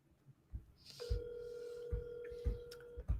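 On an outgoing phone call, a single ringback tone sounds for about two seconds over a faint line hiss, with several dull thumps and knocks around it.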